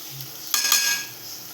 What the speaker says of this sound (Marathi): तर आता आपण त्यात ते सगळे मसाले टाकणार आहोत